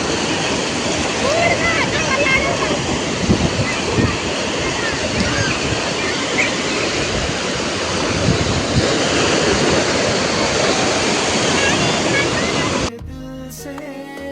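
Shallow sea waves wash in over bare feet at the shoreline, a steady, loud rush of surf mixed with wind buffeting the microphone, which cuts off abruptly near the end.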